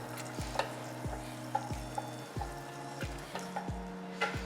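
Hot oil spits and sizzles in a pan as water goes in, with regular scraping stir strokes repeating about every half second, fairly quiet and without talk.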